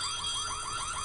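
A fire alarm rings in the school of the horror game White Day, a steady electronic warble pulsing about four times a second, loud and continuous with no voices over it.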